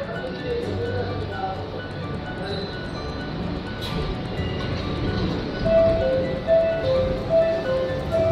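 Keihan 7000 series local electric train pulling away from platform 1 at Kyobashi station, a steady low rumble of wheels and motors under station ambience, with repeating chime-like announcement tones near the end.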